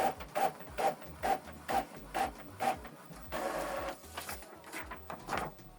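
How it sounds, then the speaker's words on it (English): An Epson WorkForce WF-2950 inkjet printer runs a test page, its print head shuttling in a steady rhythm of about eight evenly spaced mechanical passes, then a longer whirring feed and a few more shuttle strokes, close and alone with no voices. "So it's printing a test page to confirm that the printer is connected via a USB cable"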